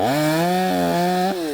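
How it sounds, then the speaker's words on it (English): Chainsaw cutting through branches during cleanup after a snowstorm, a steady loud engine whine that dips briefly mid-cut and drops slightly at the end, heard close and alone. "The ripping of chainsaws, cleaning up of branches, and sounds of engines from heavy machines filled campus yesterday"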